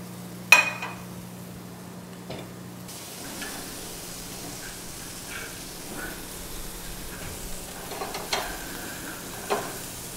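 Mashed potatoes with parsley butter being stirred in a pan over gentle heat: a soft, low sizzle underneath, with scattered spoon taps and scrapes against the pan, one sharp clink near the start.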